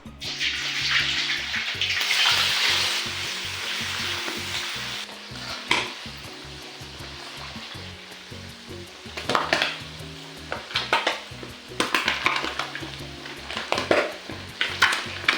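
Tripe frying in oil in a pan, a steady sizzle with repeated stirring and scraping strokes that come and go in bursts, close and fairly loud, with no voices.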